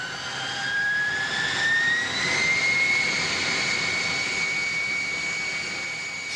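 B-52 bomber jet engines roar loudly and steadily as the plane starts rolling at Minot Air Force Base, a dense rushing blast with a rising whine that climbs in pitch and then holds through the whole stretch.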